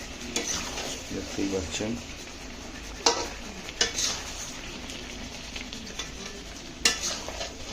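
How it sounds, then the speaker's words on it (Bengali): Mutton being stir-fried into kosha in a pan for a goat curry, a steady sizzle broken by close scrapes and clanks of a spatula against the metal, with a brief voice speaking over it. "মটন এখন কষা হোক।"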